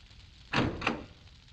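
A door opens amid a burning-building rescue, heard as two close, fairly loud bursts about a third of a second apart over a low background rumble, then quiet.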